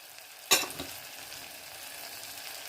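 Homemade chili powder masala fries in a pan for mutton kuzhambu, a single sharp spatter and clatter followed by a faint, steady low sizzle.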